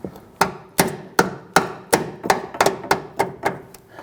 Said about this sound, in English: I like to get in here with a hammer and just kind of tap this on